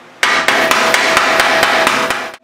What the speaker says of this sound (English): get the guy clamped to the table, pick a hammer and just hammer.